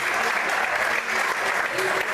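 A congregation applauds during a church service, with dense, steady clapping filling the room throughout and voices mixed in.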